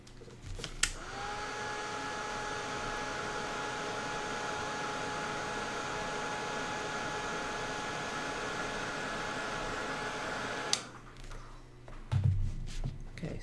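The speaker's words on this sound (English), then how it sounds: "I'm just going to hit it with my dryer for a second just to see if I can speed up the process" A hand-held hair dryer blows steadily for about ten seconds to speed up drying, a loud continuous whoosh with a faint whine, then switches off into quiet handling sounds.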